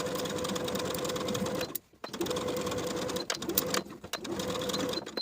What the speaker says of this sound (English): Sew the facing to the armhole edges of the dress with a 5/8 inch seam allowance.